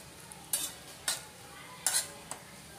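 Cashews and almonds frying in ghee in a kadai, quiet background sizzle broken by four brief scraping stirs of a spoon against the metal.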